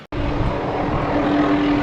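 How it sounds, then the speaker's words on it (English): A helicopter passes overhead near a fish camp, a steady engine and rotor drone that starts abruptly and holds loud and continuous, with no talk. "you can hear the helicopter behind me"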